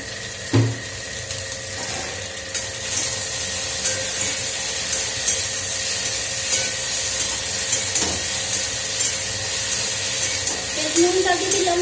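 Okra and potatoes fry in a pan over a high gas flame, giving a steady, close sizzling hiss that runs unbroken throughout, with a faint voice now and then.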